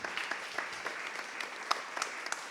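Light applause from a small audience, soft and somewhat distant, with individual claps standing out over a steady patter.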